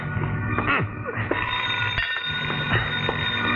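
A telephone bell rings repeatedly in a 1940s old-time radio mystery drama, heard over a steady hum and faint background sounds with no speech.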